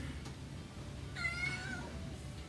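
A kitten indoors lets out a single drawn-out meow at moderate distance, faint and alone against a quiet room, pleading to get out.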